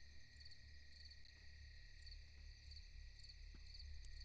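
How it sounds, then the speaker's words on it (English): Steady, dense cricket chirping fills the scene, a continuous high trill with a faint low hum beneath it. "you can hear the chittering of crickets and the chirping of birds in the distance"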